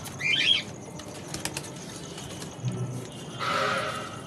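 Caged pigeons being fed paddy flap their wings in two short bursts, one near the start and another at the end, close by, with quiet rustling between and no speech.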